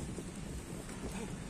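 Rain falls across a football field during a halted match, a dense, steady hiss with a low rumble of wind beneath.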